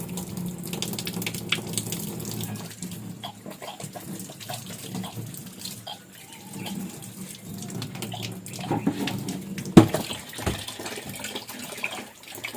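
Tap water runs steadily into a sink while an eggplant is washed under it, with uneven splashing and gushing throughout and a sharper clatter near the end.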